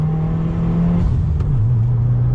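Used Subaru WRX with all-wheel drive accelerating in second gear, a loud steady engine drone heard from inside the car, its pitch sagging briefly midway before holding steady.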